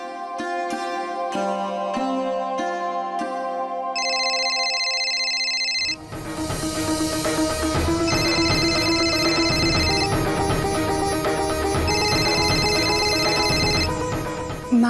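A phone's ringtone plays an incoming-call melody, first as a sparse tonal tune, then a repeating bright ringing pattern over fuller music-like accompaniment, loud and steady throughout.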